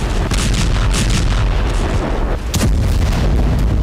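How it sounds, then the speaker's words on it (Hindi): Israeli bombardment strikes on Hamas bases, dense loud booming blasts and rumbling explosions one after another, with a sharp crack near the end. "हमास के अड्डों पर इजराइल भीषण बमबारी कर रहा है।"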